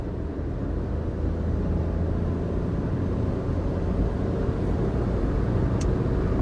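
A Mahindra XUV 3XO car accelerates hard in fourth gear, its engine and road noise forming a steady, loud broadband roar that holds for the whole stretch with no voices.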